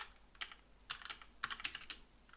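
Computer keyboard keys clatter in quick, uneven bursts as code is typed for an online game client, close and clear with no talking.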